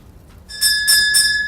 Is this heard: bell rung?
yes